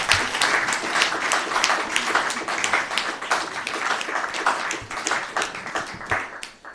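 Sustained applause from a live audience at an ISKCON gathering in Ljubljana, many hands clapping densely and steadily for several seconds with faint voices underneath.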